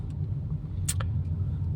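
A car idles and creeps slowly while maneuvering, a steady low engine rumble with a brief sharp squeak or click partway through.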